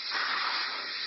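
Compressed air hisses sharply and steadily out of the drain valve of an air compressor fitted with an added tank, a short, even burst heard close up.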